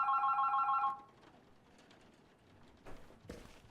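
A telephone rings in The Berlin Apartment game, a short burst of rapid electronic trills lasting about a second before the room falls quiet.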